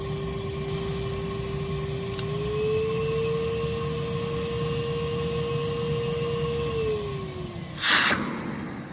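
A Metropolitan vacuum cleaner runs steadily during an airflow test, its loud whine holding pitch, rising briefly then dropping near the end, followed by a short clunk.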